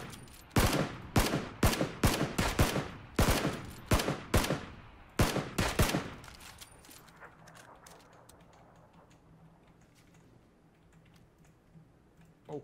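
A rapid burst of Battlegrounds gunfire, sharp repeated shots in quick volleys, then the shooting stops and only faint background hum remains.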